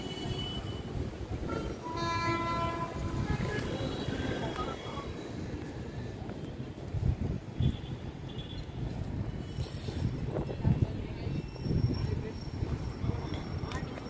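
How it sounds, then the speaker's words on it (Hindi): The Prayagraj Express passenger train rolls along the railway tracks near a rail overbridge in Bhopal, a steady rumble with rhythmic wheel clatter and a brief horn-like tone. "ये प्रयागराज एक्सप्रेस आ रही है या निशातपुर स्टेशन की तरफ बढ़ रही है।"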